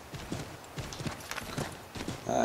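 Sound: horse galloping in video game Assassin's Creed 3

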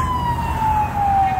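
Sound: ambulance siren passing down the street

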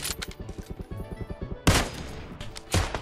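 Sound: gunfire in PUBG Mobile video game

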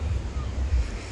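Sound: waves at Baga Beach, Goa

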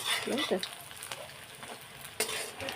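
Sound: pumpkin flower fritters frying in oil

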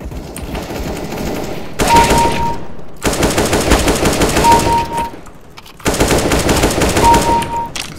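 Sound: AK-47 gunfire in CS:GO video game deathmatch on Dust II

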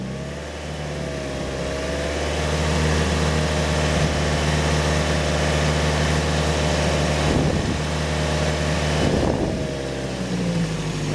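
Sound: car engine revving

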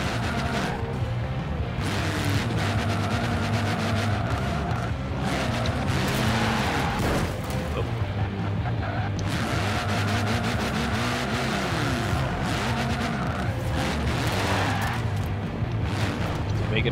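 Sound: 1974 Toyota Corolla doing burnouts in video game Forza Horizon 4

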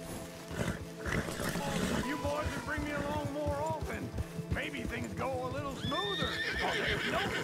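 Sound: horses galloping while riding, from the video game Red Dead Redemption 2

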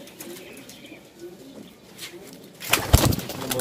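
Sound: pigeons cooing

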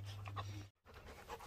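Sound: dogs panting in the heat

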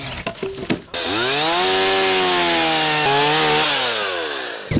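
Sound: chainsaw cutting a chunk off a wood log

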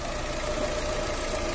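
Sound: Fiat 500 2017 engine idling

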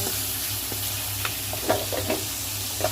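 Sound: stir-frying pork in a pan

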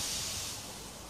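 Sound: steam engine puffing in

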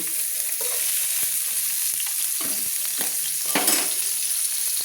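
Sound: bata fish frying in a pan

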